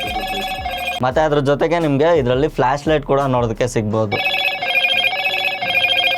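A phone rings repeatedly, triggered by the find-phone feature of a boAt Storm Call 3 smartwatch. A steady, close electronic ringtone plays before and after someone speaks over it in the middle.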